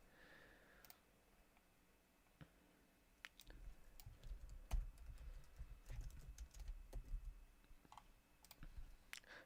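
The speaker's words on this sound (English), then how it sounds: "I'm typing in the Discord right now." Keystrokes on a computer keyboard while messaging during a live trading stream, a quiet irregular patter of clicks that grows busier and denser partway through, with no talk.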